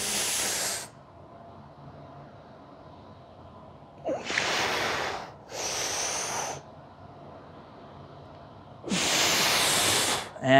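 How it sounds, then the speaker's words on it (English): Heavy breathing during a lower body workout: four loud, forceful hissing exhalations come at uneven intervals, close to the mic, with quiet gaps between them. "Notice my breathing."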